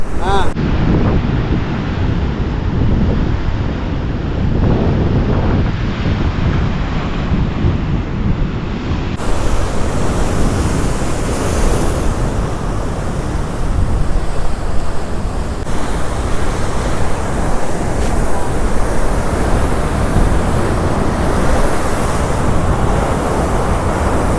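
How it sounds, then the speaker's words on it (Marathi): Large sea waves surge and crash in a continuous roar on the Konkan coast during heavy monsoon rain, with strong wind rumbling across the microphone and a voice faintly talking at times. "मध्ये मध्ये लाटा मोठ्या मोठ्या पण येत आहेत"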